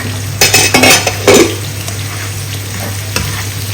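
Potatoes frying in a pan get a few quick scraping stirs up close, followed by a steady low sizzle.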